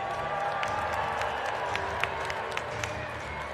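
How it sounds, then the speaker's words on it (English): A crowd in a Monster Jam arena in Denver roars and cheers with steady clapping, a dense, continuous wash of noise with scattered sharper claps and whistles standing out. "The roar of the crowd to power this big Megalodon truck as Matt Doomer pulls up to the line"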